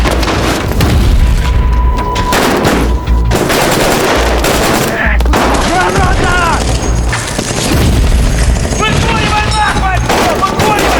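A furious close-quarters battle rages inside a destroyed building, with loud, dense bursts of rapid gunfire and heavy booming blasts filling the clip almost without pause. Voices can be heard under the shooting.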